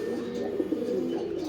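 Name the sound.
pigeon cooing in a loft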